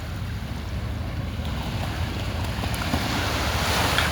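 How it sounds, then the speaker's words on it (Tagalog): Small waves lap at a beach resort shoreline, a steady low wash building slightly louder toward the end, with wind buffeting the microphone and no voices. "Malilit lang alon guys."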